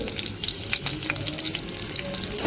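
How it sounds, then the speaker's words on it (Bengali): Pointed gourd fries in hot oil with green chilli and panch phoron, giving a dense, close sizzle with scattered crackles and popping bursts as the pieces are stirred, steady for the whole stretch with no talk. "এবার এর মধ্যে পটল দিয়ে দেবো পটলটা একটু নাড়াচাড়া করে"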